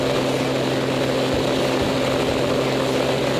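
A Pitts S1S aerobatic biplane's propeller engine gives a loud, steady droning hum with a constant pitch and a few faint low thumps underneath.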